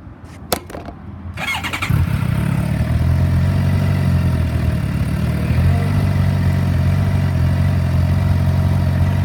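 A 2014 Suzuki GSXR 750 motorcycle cranks with a few quick starter clicks, fires up and settles into a loud, steady, close idle that holds to the end.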